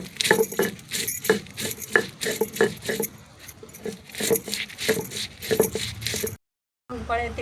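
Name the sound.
grinding amti masala on stone slab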